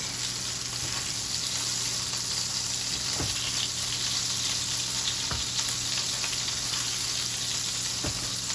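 Swiss steak browning in a frying pan gives a steady, close sizzle throughout, with a few faint clinks and scrapes from the pan; no one speaks.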